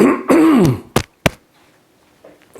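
A person clears their throat with a rough, chesty rasp, followed by two short sharp coughs, then quiet.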